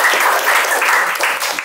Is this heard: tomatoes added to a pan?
no